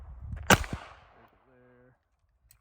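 A single sharp pistol shot rings out at the range, fired with the gun held upside down, and the crack fades into a short echo. Faint mechanical sounds and a brief tonal hum follow, with no talk.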